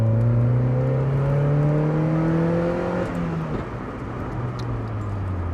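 A car engine revs loudly through an aftermarket exhaust with rising and falling tones, steady and close, then settles into a lower rumble.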